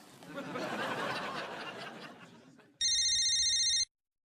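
Soft rustling fades out, then a telephone rings once in a sharp electronic trill lasting about a second.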